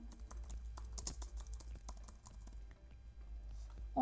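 Keys on a computer keyboard are tapped in quick, irregular bursts while a search is typed, close and fairly soft over a low steady hum, with a short pause near the end.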